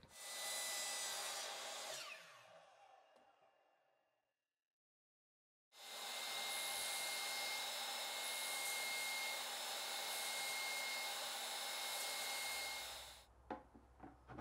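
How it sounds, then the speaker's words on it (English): Saw cutting through a 1 inch plastic pipe for a bucket mouse trap, a loud, close, continuous rasping hiss in two bursts separated by a few seconds of silence. "Start by cutting the smaller 1 inch pipe, slightly longer than the top of the bucket."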